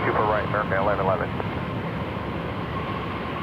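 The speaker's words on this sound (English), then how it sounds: "A321 headed to Vancouver" An Airbus A321 airliner rumbles at Toronto Pearson Airport, a steady low engine roar under a brief burst of radio-style speech at the start, then continuing alone at moderate level.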